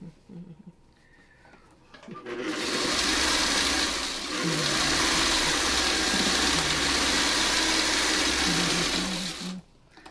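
Sewing machine stitching a 6.5 by 1.5 inch fabric strip: a steady, whirring motor run of about seven seconds with a slight dip midway, starting after a quiet moment and stopping abruptly.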